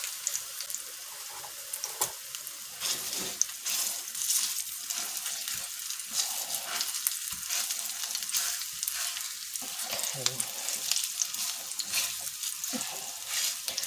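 Food browning in oil in a pan for vegan stuffed potato balls, a continuous close hissing sizzle with bursts of crackle and occasional light stirring noises.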